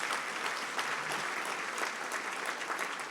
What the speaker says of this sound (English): And we should give him a round of applause.